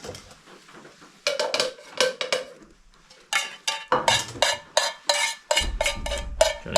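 Metal scraping and clanking of a utensil against a frying pan as sauce is scraped out, a series of short rough scrapes close by, with no talking.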